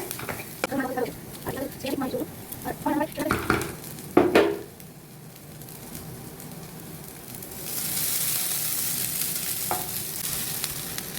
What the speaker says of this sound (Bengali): নাড়ানোর চেষ্টা করছি, কিন্তু দুঃখের ব্যাপার জায়গা পাচ্ছি না